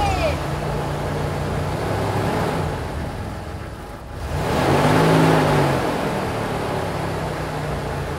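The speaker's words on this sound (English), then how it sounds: "That's the sound of a working van" An old, broken-down van's engine turns over and settles into a steady running rumble, with a brief dip before it picks up again and holds at a constant idle.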